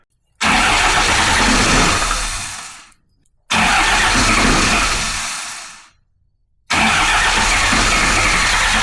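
A rebuilt Ford 1920 tractor engine cranks over in three long, loud bursts separated by brief pauses, each one grinding steadily and then winding down without the engine catching.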